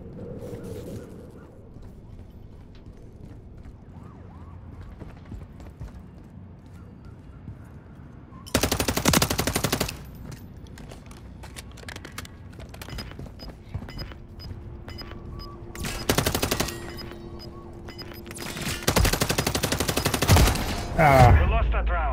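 Video game shootout gunfire: long stretches of quiet background broken by three loud, dense bursts of automatic fire, with a few faint isolated shots between them.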